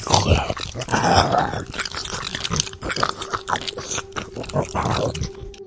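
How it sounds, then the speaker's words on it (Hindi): A wet, disgusting chewing effect for a Hindi horror story: slow, squelching bites and crunches mixed with a low, animal-like growl, close and fairly loud throughout. "एक आवाज, धीमी, गीली और बेहद घिनौनी।"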